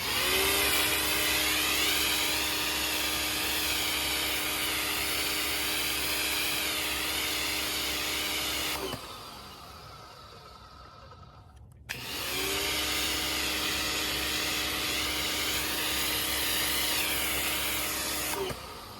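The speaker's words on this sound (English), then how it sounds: "you'll just turn the machine on and pull the handle" Foting 4500 PSI electric pressure washer spraying foam from a foam bottle attachment, a loud steady motor whine with hissing spray that cuts out briefly for a few seconds mid-clip, then resumes at full strength.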